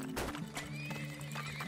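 A horse in the oil-drilling game Turmoil: Deeper Underground gives a short, bright neigh, with hooves clip-clopping underneath, close and clear.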